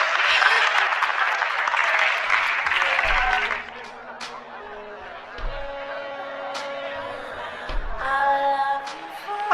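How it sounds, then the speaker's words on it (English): Audience applause after an announcement at an event in a loft, fairly loud clapping for the first few seconds that fades to scattered claps and low chatter. "everybody, please, an applause for William and Elise"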